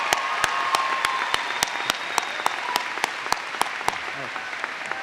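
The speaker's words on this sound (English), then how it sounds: "Please give our President's Award winner a round of applause." A college commencement audience applauds an award winner with steady, full crowd clapping, individual louder claps punctuating the wash at a regular pace.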